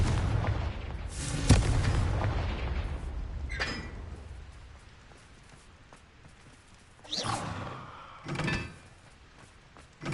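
Confringo blasting spell explosions in Hogwarts Legacy, with a heavy boom at the start and further sharp blasts and rumbling impacts later, set against low ambient game noise.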